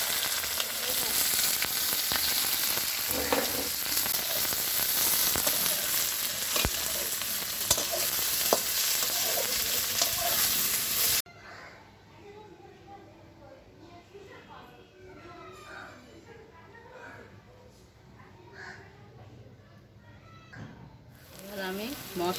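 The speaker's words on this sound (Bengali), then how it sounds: "এখন আমি লঙ্কা, তেজপাতা, বাবা, জিরে ফোড়নে দিয়ে দিচ্ছি। পেঁয়াজ দিয়ে দিচ্ছি।" Onions frying in hot oil with chili, bay leaf and cumin tempering over a clay stove sizzle loudly and steadily for about eleven seconds, then drop to a quieter, softer crackle with faint stirring.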